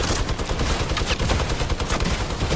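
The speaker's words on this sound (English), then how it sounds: "That's spamming the minigun" A minigun fires in a sustained rapid stream in a video game shooter, a loud dense roar of automatic gunfire that continues without pause.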